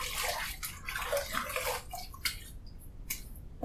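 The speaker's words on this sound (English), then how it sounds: "I want to splash a little bit of water on there" Water splashes onto a man's face before shaving over about two and a half days of beard growth: close, wet splashing and dripping with several sharp slaps of water and quieter trickling between them.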